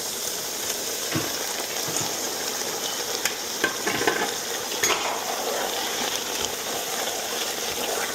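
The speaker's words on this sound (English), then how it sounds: "I'm going to add the green and mix everything up together." Greens are stirred into cooked black-eyed peas in a pot, with a steady sizzle and soft scraping and clinking of a utensil against the pot, continuous and close, without talk.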